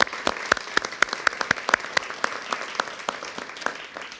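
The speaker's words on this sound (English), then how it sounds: "Can we give them a round of applause for the stamp?" Audience applause at an indoor briefing for the 2017 total solar eclipse, honoring a commemorative eclipse stamp: a few seconds of steady clapping from a crowd with sharp individual claps poking through, fairly close and sustained without fading out.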